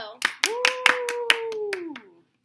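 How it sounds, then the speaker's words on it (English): A small group gives a round of applause, with sharp, distinct claps in a quick irregular rhythm under a sustained cheering voice, ending abruptly after about two seconds. "Can I get a round of applause for Pisa Bodo?"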